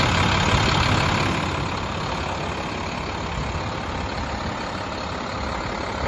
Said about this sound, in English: The motor sounds healthy.